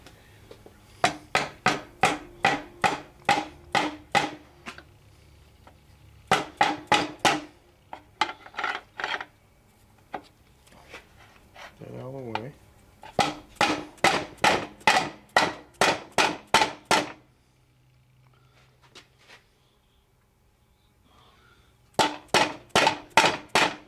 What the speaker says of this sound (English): Now we'll go get a rubber mallet hammer, and we will tap it down in here.